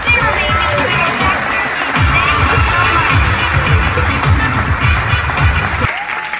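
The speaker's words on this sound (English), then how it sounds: "Give them a huge round of applause." Live audience applause at a ventriloquist show, dense and loud with scattered cheers and shouts, sustained for several seconds before cutting off sharply near the end.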